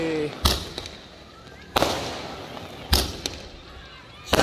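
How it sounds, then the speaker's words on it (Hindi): A 120-shot sky shot firework fires at night, sending out four loud, sharp bangs spaced about a second apart, each one trailing off into crackling. A faint background hiss runs between the bursts. "तो देखते हैं कैसे चलता है ये 120 शॉट"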